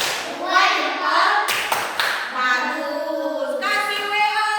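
Schoolchildren in an elementary classroom chant a thumb-clapping song together, their sung voices punctuated by a couple of sharp group claps.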